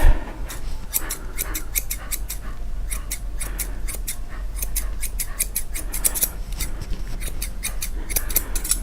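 Scissors snip steadily at the ear hair of an apricot poodle during grooming, giving a close, crisp run of rapid metallic cuts in quick irregular bursts with no talking.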